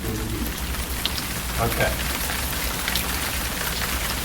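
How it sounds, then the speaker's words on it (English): Steady heavy rain pours continuously at close range, a dense wash of falling water throughout, with a brief spoken word heard over it. "There was some acid rain in the B wing"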